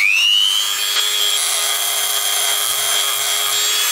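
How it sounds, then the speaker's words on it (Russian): A hardened imported Force socket head being sawn through, a steady loud continuous grinding rasp with a bright high whine running the whole time, close and alone without talk. "Пилит головку запросто."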